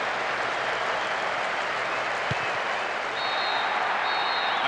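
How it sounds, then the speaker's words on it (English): In the PES 6 football video game, a stadium crowd roars loudly and steadily at the final whistle, a dense wash of cheering and applause that holds for the whole stretch, with a faint whistle tone near the end. "A huge roar from the crowd as the referee blows the final whistle"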